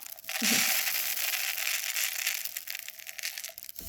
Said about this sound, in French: vous rajoutez le riz, tac, dans le trou